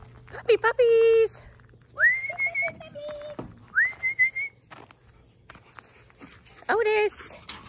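Excited puppies on a farm give several short yelps and whines, loud and close, in bursts, with a voice and whistle-like calls around them.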